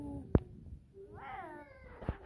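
A cat gives a single drawn-out meow near a baby at a nine-month doctor visit, with a couple of sharp taps before and after it.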